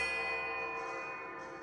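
A small silver bell rings on in a long, steady metallic tone with bright sustained overtones that slowly fade.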